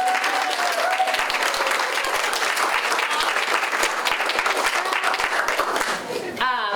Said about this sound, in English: so big round of applause for Amber.